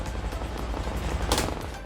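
A 2020 Honda Beat automatic scooter idles steadily after an electric start, a low, even engine rumble with a brief louder flare partway through and no talk.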